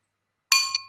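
A single bright ring of a glass being struck, marking the end of a speaker's allotted time at a political party conference, rings out clear and close with a short second tap near the end, with no talk over it.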